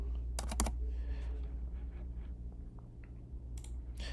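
A few quick bursts of key clicks on a computer keyboard, close and faint, come in two short clusters separated by a quiet stretch with a low hum underneath.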